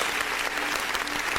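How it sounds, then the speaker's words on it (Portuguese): Dense audience applause at a live Portuguese-language talk or sermon, steady and continuous throughout with many hands clapping at once, no voices rising above it. "Vamos aplaudir esse momento? Aplausos."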